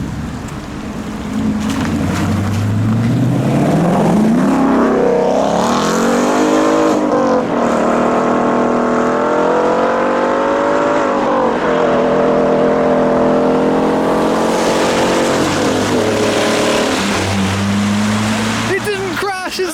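Supercars drive on rain-soaked roads, engines revving and rising in pitch as they accelerate past under a constant hiss of spray and rain, loud and continuous throughout.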